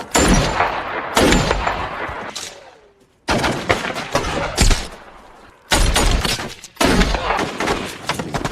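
Gunfire in a Taliban war film, loud bursts of shots and blasts in several separate volleys with short quiet gaps between, sharp and close.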